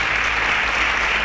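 Brief, dense applause from a studio audience on a quiz show, cheering contestants, a loud wash of clapping over steady low hum.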